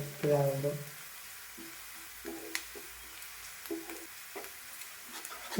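Onion and curry leaves fry in a pan for a masala thoran, with a loud sizzling burst at the start and then quieter sizzle and scattered stirring clinks.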